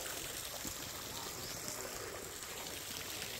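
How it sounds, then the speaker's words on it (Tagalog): Small river flowing past corn fields, a steady broadband rush of water that stays even and fairly close throughout, with no voices. "So bali kung titignan parang maliit siya na ilog."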